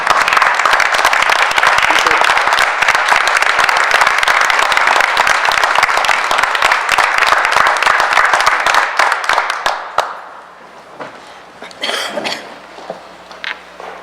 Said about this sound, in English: let's give Ethan a huge round of applause on obtaining this fine honor